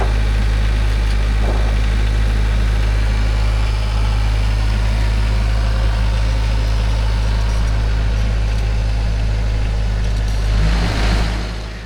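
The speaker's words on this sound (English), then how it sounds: "This is one of the reasons I say the TYM T474 is such a great homestead tractor." A TYM T474 tractor engine idling close by, a loud, steady low rumble with constant hum that holds evenly for about twelve seconds, with a brief clunk near the end.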